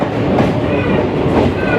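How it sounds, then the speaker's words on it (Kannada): A passenger train pulls into a station on the Tiptur to Tumakuru route, a loud, close, continuous rumble of wheels and carriages rolling past. "ಇನ್ನೇನು ನಮ್ಮ ಟ್ರೈನ್ ಬಂತು"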